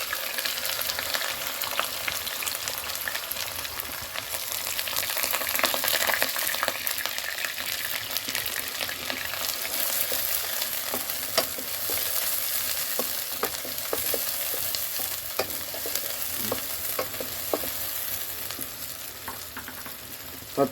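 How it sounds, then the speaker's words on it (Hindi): Chopped onions sizzling and frying in hot ghee in a pan for dal kofta curry, a steady dense crackle with occasional stirring scrapes, close and continuous, with no voices. "घी हमारा गर्म हो चुका है। अब इसमें प्याज डालेंगे।"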